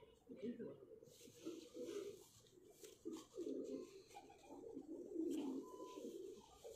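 Pigeons in a man's Multan loft, including a strong, thick-headed, thick-necked male, coo in low, rolling bursts throughout, mixed closely with ongoing men's conversation.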